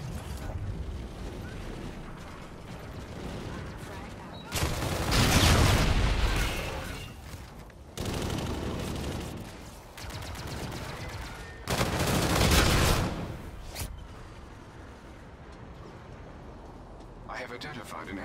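Bursts of gunfire and explosions from the Call of Duty: Infinite Warfare video game, two heavy loud volleys with booming blasts separated by quieter stretches, while a radio-style voice speaks over the action.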